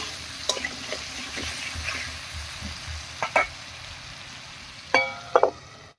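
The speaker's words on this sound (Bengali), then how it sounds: "এবারে ঢাকা দিয়ে বেশ লাল করে ভেজে নেব।" Potatoes seasoned with salt and turmeric fry in a covered pan with a soft, steady sizzle, broken by a few sharp clinks and knocks from a utensil or lid.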